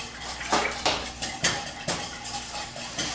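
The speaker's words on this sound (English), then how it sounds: "go ahead and do that nice and slow while Grandpa's whisking" A whisk beats olive oil into Italian dressing in a bowl, making quick, regular metallic clinks and taps against the bowl at close range, with no talking.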